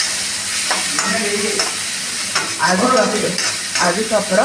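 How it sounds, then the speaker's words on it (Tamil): Onions sauté in a pan for snake gourd and lentil sambar, a bright sizzle broken by scraping spatula strokes that grow busier toward the end, with a brief word spoken early on. "இந்த வெங்காயம் நல்லா வணங்கணும்"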